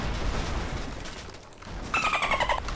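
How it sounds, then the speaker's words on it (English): Remote charges detonating in Red Faction Guerrilla, a rumbling burst of explosive noise and crumbling debris, followed by a brief metallic ringing tone near the end. "I can place 2 at a time before I detonate them"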